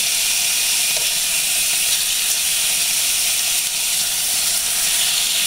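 Boneless beef short ribs searing in a hot pan, a steady loud broadband sizzle and hiss that runs unbroken throughout with no voices.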